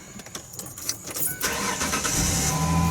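A truck engine cranks and catches partway through, the starter noise giving way to a loud, steady rumbling idle heard up close.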